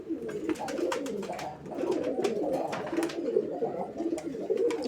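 Pigeons coo over and over in a low, throaty chorus at a pigeon fair, several birds overlapping close by with a continuous rolling rhythm.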